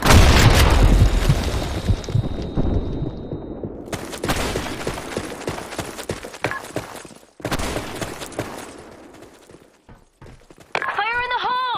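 A grenade blast in a video game opens with a loud boom and rumbling debris, then a sequence of further sharp cracks and bursts follows with short silent gaps, and a voice calls out near the end.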